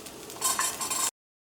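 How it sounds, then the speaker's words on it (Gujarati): Chopped vegetables sautéing with garlic, ginger and chilli over a low flame for a vegetable soup, a steady close sizzle that swells as they are stirred, then cuts off abruptly. "એકદમ ધીમા ગેસ પર આપણે આ બધા શાકને સાતળી લઈશું"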